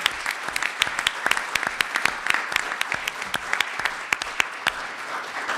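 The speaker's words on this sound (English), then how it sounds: "So I'd like you to give them all a big round of applause," An audience at a summit breaks into a round of applause, dense overlapping clapping that stays steady and lively throughout, with no voices over it.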